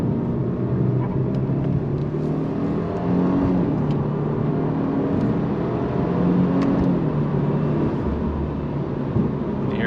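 A Subaru WRX with an automatic transmission and all-wheel drive accelerates, giving a steady, loud engine drone and road rumble from inside the car with no talking.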